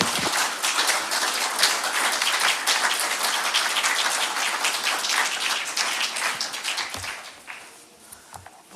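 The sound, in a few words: applause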